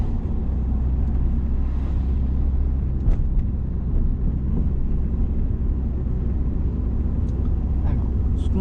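A car accelerates on the road during a driving lesson, a steady low engine and road rumble running throughout with a few faint knocks and no talk heard.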